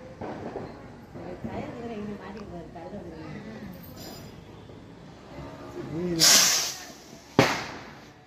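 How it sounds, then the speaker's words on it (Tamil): Talk and laughter, then a sudden loud hissing burst of a Diwali firecracker that fizzles out briefly, followed by a sharp pop. "வெடிக்கிறதா அது வெடிக்கிறதாட்டுக்கு ஏன்னா புஷ்னு போயிடுச்சு"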